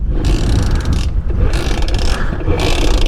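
A Simson S51 moped with starting trouble is being fired up, producing three loud, close bursts of rattly mechanical engine noise separated by short lulls.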